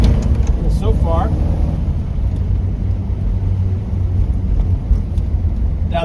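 A 1955 Ford Fairlane with a rebuilt Holley 4000 carburetor rumbles steadily on a road test, heard from inside the car as a constant low engine drone mixed with road and wind noise, with a brief voice near the start.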